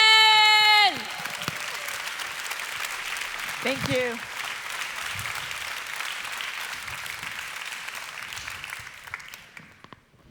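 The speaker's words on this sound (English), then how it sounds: "please give an incredible, warm round of applause" Warm audience applause for a speaker at a business conference, a dense wash of clapping that gradually fades while the speaker begins talking over it.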